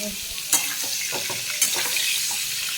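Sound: cauliflower frying in oil

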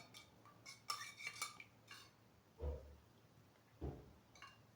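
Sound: stirring a mixture of melted butter and vegetable oil

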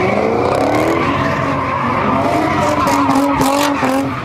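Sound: cars doing doughnuts, tires skidding in intersection

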